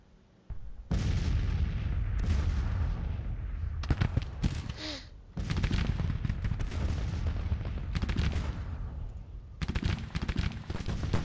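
Artillery booms and crackling rifle fire fill a battle in the Grand Tactician strategy game, with dense rapid volleys and sharp cracks that continue almost without a break, pausing only briefly midway.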